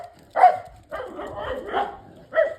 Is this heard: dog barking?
yes